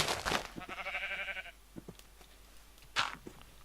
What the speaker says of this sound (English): There's some sheep over there.